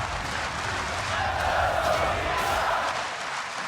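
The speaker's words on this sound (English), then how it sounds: "And the crowd is cheering him on." Esports arena crowd at the 2016 League of Legends World Championship, a steady roaring cheer from a large audience filling the hall, moderately loud throughout with no clear breaks.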